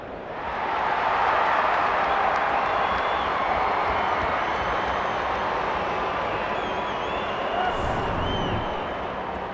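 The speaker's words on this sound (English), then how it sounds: "The crowd already making plenty of noise as the captains come together." Broad, steady roar of a stadium crowd in the AFL 23 football video game, a dense wash of cheering and murmuring that swells in and holds throughout without clear talk.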